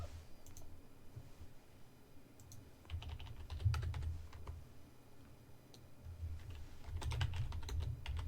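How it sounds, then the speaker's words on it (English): Rapid typing on a computer keyboard during a Diablo 3 livestream, bursts of close, crisp key clicks with short pauses between runs over a low background hum. "Sorry, I'm typing to Bane"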